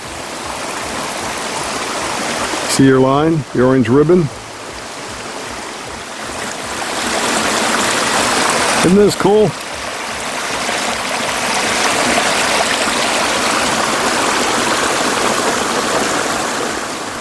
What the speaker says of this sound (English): maybe you go down to this little stream to get some water